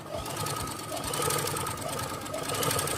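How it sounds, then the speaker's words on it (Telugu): Freshly oiled sewing machine turning over smoothly up close, a continuous even whir with soft regular clicking from the needle mechanism, no voices over it. "సౌండ్ కానీ చూసారా ఎంత స్మూత్గా వస్తుంది"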